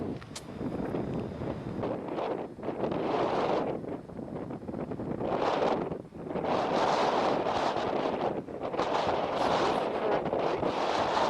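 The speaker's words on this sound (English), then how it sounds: "Also quite windy today and raining." Steady, roaring wind in rainy weather at Glacier National Park buffets the microphone throughout, with gusts swelling and dipping briefly before surging again.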